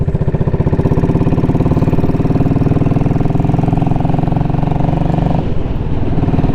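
A Royal Enfield Classic 500 motorcycle engine runs steadily nearby on a cold day, a loud, even single-cylinder thump that holds its rhythm throughout with a slight change near the end.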